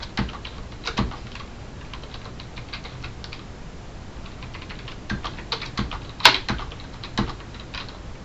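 Rapid keystrokes on a computer keyboard while writing out Java Swing button code, steady close clicking with a few louder taps over a faint background hiss.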